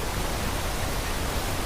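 Heavy monsoon rain falls near Athirappilly waterfall in Kerala as a dense, steady, broadband hiss that stays even and close throughout the short stretch, with no voices.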